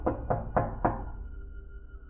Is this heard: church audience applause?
no